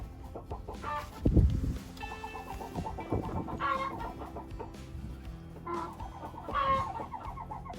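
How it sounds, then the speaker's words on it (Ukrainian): A hen laying an egg clucks repeatedly in low, drawn-out calls at close range, with soft rustling and movement in between. "Несеться курочка."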